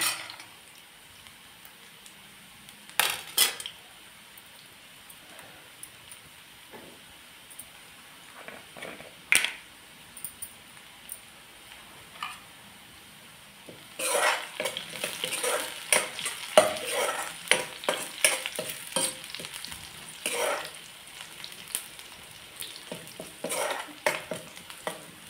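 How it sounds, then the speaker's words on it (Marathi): Onions frying in a pan for a Malvani dish, a faint sizzle with scattered scrapes of stirring that grow busier and louder in the second half. "कांदो जर असं लाल होऊ देऊया, मग आपण मसाले घालूया त्याच्यामध्ये."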